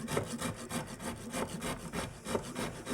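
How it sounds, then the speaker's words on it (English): A Parmesan-style wood rasp files bumps off a branch for rustic outdoor furniture, making steady rhythmic scraping strokes, about three per second, close and moderately loud, with no talk. "my favorite tool is this Parmesan kind of wood rasp, and that just takes the bumps off"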